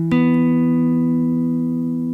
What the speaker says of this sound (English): So that's also a power chord.